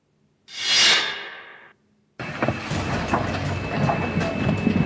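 A Silchar-Guwahati passenger train rolling on rails, a steady broad rumble with clattering after an earlier brief whooshing swell, loud and close with no speech.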